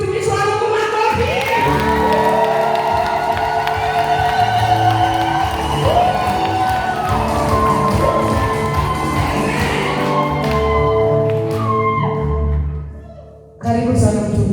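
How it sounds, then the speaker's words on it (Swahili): A church congregation cheers, shouts and claps for a preacher in a loud, sustained crowd roar with singing-like voices mixed in, ending with a sudden drop and a brief resurgence. "Apigia mtumishi wa Mungu makofi."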